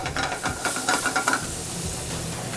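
Ramps fry and brown in a hot pan, giving a steady crackling sizzle with a few brief bursts of stirring or spattering early on, close and continuous, with no talk.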